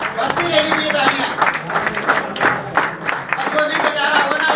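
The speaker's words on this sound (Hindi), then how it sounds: "बजती रहनी चाहिए तालियां।" An audience in Jaipur claps continuously, a dense, steady patter of many hands with scattered voices mixed in, holding at an even level throughout.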